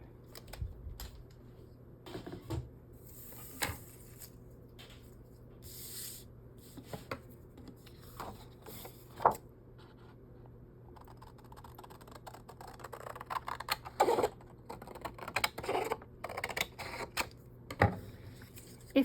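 Scissors snip through junk journal paper in scattered, close, quiet cuts and rustles, with irregular pauses between bursts of crisp clipping.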